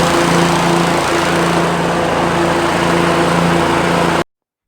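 A self-propelled walk-behind lawn mower engine runs at a steady, loud, close hum for about four seconds, then cuts off abruptly.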